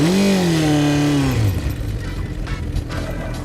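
A Japanese four-cylinder 400cc motorcycle engine screams at high revs, then the pitch falls sharply as the throttle closes and it drops to a rough, burbling idle, loud and close.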